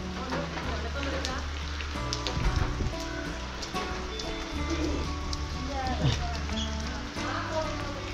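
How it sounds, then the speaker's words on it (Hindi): Heavy rain pours steadily around a market area near a hill temple in Mandi, Himachal Pradesh, a dense continuous patter with scattered clatter and faint voices underneath. "बारिश हो रहा है यार बहुत।"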